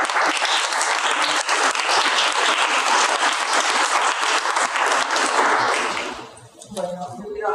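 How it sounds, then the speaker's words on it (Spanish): Applause from a lecture-course audience welcoming a speaker, dense sustained clapping for about six seconds that fades out, followed by a voice beginning to talk. "Muchas gracias, un aplauso."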